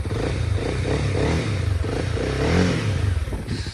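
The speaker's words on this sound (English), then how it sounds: "it just sounds so, it's a nice quiet bike. It's not loud." Brand-new motorcycle engine idling and lightly revving nearby, a fairly soft pulsing rumble with slight clattering, heard alone without talk.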